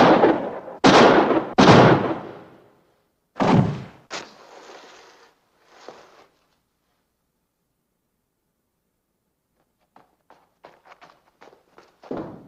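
Gunshots in a 1955 western: three loud, sharp reports close together, a fourth after a short pause, then a thud and rustling, followed by quiet and faint scattered clicks near the end.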